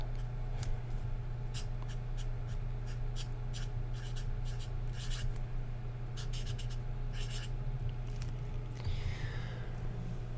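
Japanese being written by hand, a pen scratching close and soft in short strokes and pauses over a steady low hum, with no voice.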